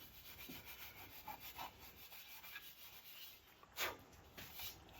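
Rust and grit being wiped off the chrome wheel of a 1975 EZGO golf cart, with steady rubbing strokes and one sharper scrape near the end, close and fairly quiet.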